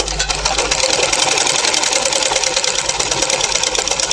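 A sewing machine runs steadily while stitching a baby cap, a dense, continuous mechanical whir with rapid needle clatter, close and loud throughout, with no talk.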